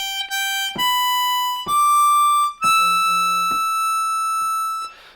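Slow Auld Lang Syne melody played on a G harmonica, a string of held single notes stepping between pitches with brief gaps, clear and close, ending on a breathy high draw note, with no talking.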